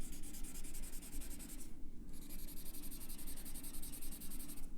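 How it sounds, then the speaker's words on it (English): Graphite drawing on paper being worked with a blending stump, a steady close scratchy rubbing that continues across the paper with a brief pause midway, no voices. "I'm going to add and blend with my blending stump."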